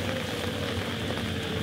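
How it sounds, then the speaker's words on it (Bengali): Steady rain falling, a dense even hiss with a low rumble beneath and no distinct drops standing out. "গতকাল রাত থেকে টানা বৃষ্টি"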